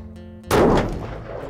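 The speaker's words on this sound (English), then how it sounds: "really want to check the zero on this gun before I'm going to take any shots beyond that distance" One rifle shot fired while zeroing at 100 yards outdoors during a California tule elk hunt, a single loud, close blast that decays into a rolling echo, heard alone with no talk.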